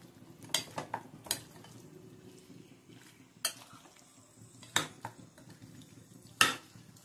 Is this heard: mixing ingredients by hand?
yes